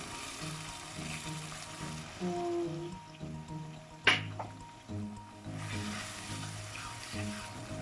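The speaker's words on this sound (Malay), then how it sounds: "kita masukkan satu cawan air untuk melembutkan tomato" A cup of water pours and splashes into a cooking pot with tomatoes for a few seconds, with a sharp clatter midway, over soft background music.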